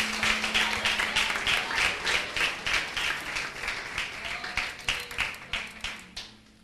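Applause from a church congregation during a worship service, many hands clapping in a loose, pulsing rhythm that is close and lively before tapering off at the end.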